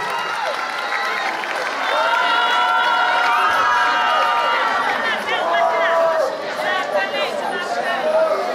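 An audience at a youth gathering in Bouaké claps and cheers steadily to welcome a speaker, a dense wash of applause with shouts and lively chatter rising and falling throughout.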